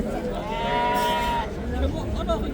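A single close bleat from a goat at a crowded outdoor livestock market in Samarkand, where dairy goats are sold on a Friday, rising over a steady murmur of crowd and market noise.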